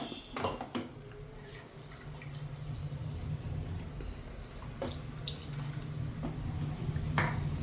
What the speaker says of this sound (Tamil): கொஞ்சம் தண்ணி ஊற்றி, நம்ம அந்த பாலக் வேவிச்ச தண்ணி இருக்குது இல்லைங்களா, அது நீங்கள் ஊற்றிக்கலாம்.